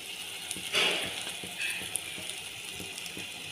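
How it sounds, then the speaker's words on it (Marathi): Mashed potato curry stirred in a hot pan, with a steady sizzle and a few scraping spoon strokes, close and fairly loud, with no talking. "हे असे छान हलवून घ्यायचं आपण।"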